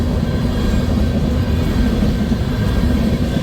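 Eastbound freight trains passing on the former C&W main line at Missouri Valley, Iowa, at the start of a blizzard; a loud, constant low rumble with no breaks.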